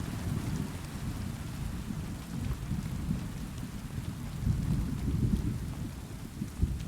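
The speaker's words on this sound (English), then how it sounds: "God, they got that rumble just right and that" Steady rainfall and a deep, rolling thunder rumble in a PC video game city set at ultra settings, forming a continuous, moderately loud storm bed with a soft crack near the end.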